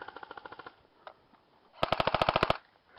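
Airsoft guns fire in rapid bursts during an outdoor game, a short string of quick pops followed by a louder, denser volley of snapping shots at close range.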